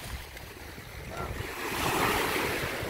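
Sea waves rolling onto the shore at Lazarevskoye near Sochi, a steady broadband wash that swells louder midway, with wind buffeting the microphone and no talk.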